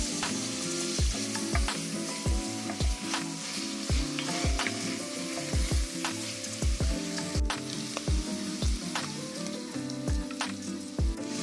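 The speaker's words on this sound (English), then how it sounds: "you want to go ahead and move your veggies around. You want to kind of scrape up all that flavor that's on the bottom of your pot." Vegetables sizzle in a soup pot as a spoon stirs and scrapes the bottom, with a steady fry hiss broken by regular knocking scrapes, close and clear with no talking.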